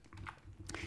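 Keys clatter in a short, close burst of typing on a computer keyboard while code is written in Adobe Animate, with no talk over it.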